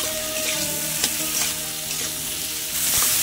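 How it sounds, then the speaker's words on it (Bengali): Tomato fries in oil while being stirred in a pan, producing a continuous loud sizzle with soft scraping and clicking from the stirring utensil. "তো টমেটোটা ভাজা ভাজা হয়ে যাবে।"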